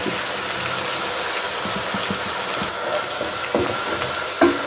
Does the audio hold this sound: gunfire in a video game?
no